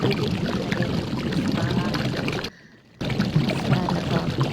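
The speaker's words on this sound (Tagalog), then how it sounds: "Lagyan ko na po ng 2 baso ng tubig." Two glasses of water poured into a pot while making cassava suman, a steady rushing pour that fills the clip apart from a brief gap in the middle.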